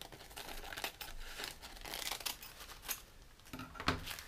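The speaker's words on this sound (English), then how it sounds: "I'm going to cut this material down so it fits a little better in the mask" Coffee filter material for a face mask is cut and handled, producing a continuous soft crinkling and papery rustle with a few sharper snips near the end, close and fairly quiet.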